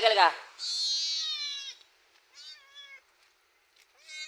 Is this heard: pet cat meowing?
yes